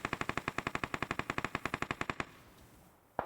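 Rapid automatic gunfire in a battle royale video game scrim, a steady stream of sharp shots for about two seconds, then a lull and one more abrupt burst at the end.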